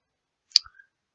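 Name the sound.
computer mouse click on the mark-in tool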